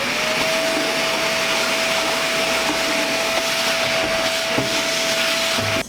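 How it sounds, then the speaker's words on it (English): A vacuum cleaner running at a suite on St. Pete Beach, cleaning the storage space under couches, a loud steady whine and roar with small bumps and knocks as the nozzle moves, cutting off at the end. "So you're going to want to lift and discover any storage underneath and vacuum."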